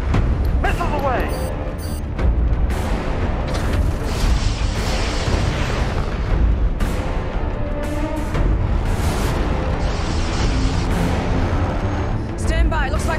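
Missiles launching and explosions in a TV space battle, a dense, loud, continuous roar of blasts and rumbling booms with sharp impacts, mixed with voices and music.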